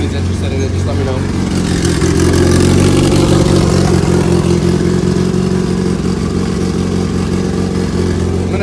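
A turbocharged all-wheel-drive Honda CRX fitted with an all-motor header idles and revs at its first start-up, a loud, steady, rumbling engine with a rough mechanical clatter running continuously close by.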